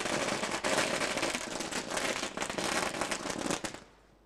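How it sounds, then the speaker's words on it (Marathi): Firecrackers go off during a ceremony at a 2024 local cricket tournament, a dense, loud barrage of rapid crackling bursts lasting nearly four seconds before cutting off abruptly into quiet. "फटाक्यांची आतिषबाजी देखील आपल्याला ऐकायला पाहायला मिळते"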